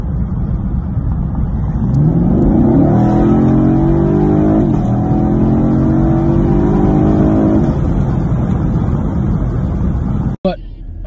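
A 2019 Chevrolet Camaro SS accelerates hard in a 30 to 80 mph roll, its engine roaring steadily and climbing through gears, loud and close from inside the car.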